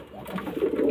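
Domestic pigeons cooing close by in a home loft, a soft low murmur that swells toward the end of a brief moment with no talk.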